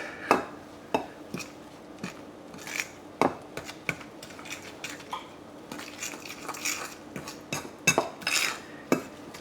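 Berries being mixed into sweet yellow cornbread batter in a bowl, with irregular scraping, clinking utensil strokes against the bowl, close up and fairly quiet.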